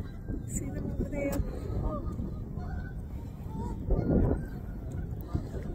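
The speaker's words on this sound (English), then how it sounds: "Those birds over there, they're making a lot of noise" Geese honking repeatedly at a moderate distance over a noisy outdoor background, with one louder burst of honking partway through.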